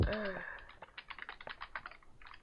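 Computer keyboard typing into a Minecraft chat, with a quick run of close key clicks right after a short voice at the start, steady and moderately quiet.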